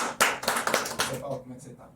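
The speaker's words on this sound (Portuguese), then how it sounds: "Por favor, salve de palmas aí." A short burst of hand clapping from a small crowd, close and lively, fading out after about a second and a half amid some voices.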